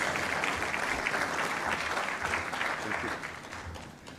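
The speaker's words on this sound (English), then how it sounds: "A round of applause for him," Sustained applause from an audience at a Kenya-European Union business forum in Nairobi, welcoming the EU Trade Commissioner, steady and dense throughout before easing slightly at the end.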